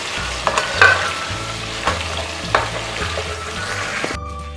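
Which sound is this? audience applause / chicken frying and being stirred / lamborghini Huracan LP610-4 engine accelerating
chicken frying and being stirred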